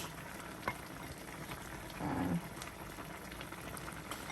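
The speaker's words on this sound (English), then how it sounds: "everything is boiling together" Nigerian okra soup boils in a Le Creuset sauteuse, a quiet, steady bubbling and simmer with a few sharper pops and a slightly louder burst of bubbling partway through.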